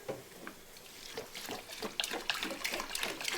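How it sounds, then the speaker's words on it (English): Distilled water splashes and pours in uneven bursts into a container of grain for mushroom grain spawn, a quiet liquid sloshing with no voices. "So we're going to fill this up with distilled water"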